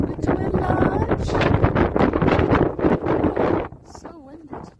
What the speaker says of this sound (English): So windy today.